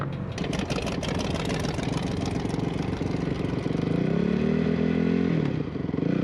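Dirt bike engine on the sand dunes of Little Sahara, Utah, running with a steady rattling drone that rises into a louder, higher revving pitch toward the end, close by and continuous.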